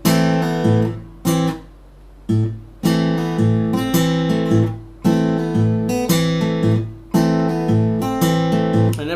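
A guitar plays a Travis picking exercise, alternating bass notes under plucked treble strings in repeated bright phrases, each ringing out then stopping briefly before the next, close and clear.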